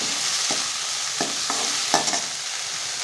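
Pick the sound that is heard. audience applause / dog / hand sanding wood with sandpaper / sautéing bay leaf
sautéing bay leaf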